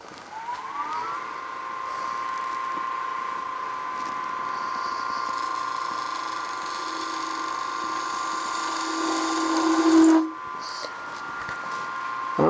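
A power saw cuts branch slots into a cast-resin Christmas tree blank, giving a steady, close whining tone that holds for about ten seconds, swells near the end, then drops away.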